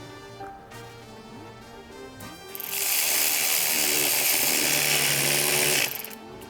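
Bolt being tightened with an 8mm socket on an engine, with a few clicks followed by a loud, continuous buzzing mechanical whir lasting about three seconds, close by.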